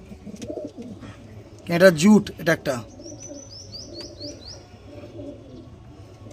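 Pigeons being sold coo softly in the background, with low throaty calls near the start and a light chirping run later, while someone speaks briefly over them.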